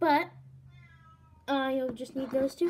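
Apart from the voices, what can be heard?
cat meowing through a door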